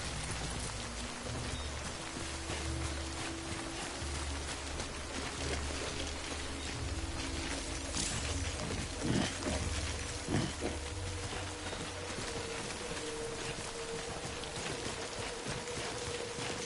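Steady video game rain hisses continuously as a dense patter across the whole scene, with a low rumble underneath and a couple of brief thumps midway; no talk over it.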